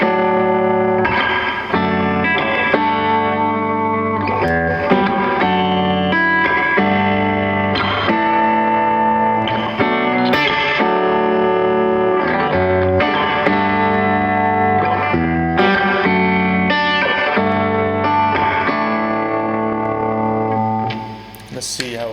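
NorthStar doubleneck electric guitar played with a clean tone on the bridge pickup, a steady run of strummed and picked chords ringing with light effects, loud and close, fading at the end.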